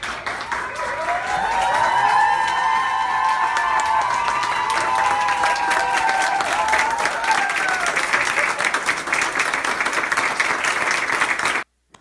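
Sustained applause from a crowd honoring people recovered from illness, dense clapping that holds steady for about eleven seconds and then stops abruptly, with voices mixed in.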